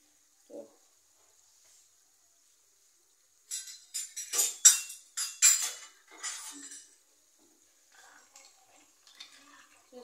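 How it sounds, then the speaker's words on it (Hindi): Dry macaroni tipped into a cooking pot, a quick cluster of hard rattling clinks and clatters lasting a few seconds, with a couple of faint knocks before and after in an otherwise quiet kitchen. "और हम इसमें डाल देंगे ये मैक्रोनी"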